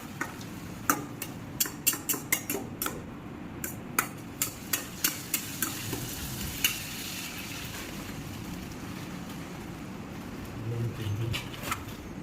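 Half a kilo of chicken fries in a pan with a soft continuous sizzle, broken by a run of sharp metallic clicks and taps from stirring that come in quick succession, then give way to calmer frying.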